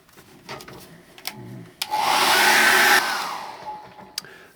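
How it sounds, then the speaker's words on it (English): A hairdryer blasts for about a second on wet acrylic paint, a loud, close, steady whooshing roar that cuts off sharply. Faint scraping and handling noises sound before and after it. "Let's dry that off with a hairdryer."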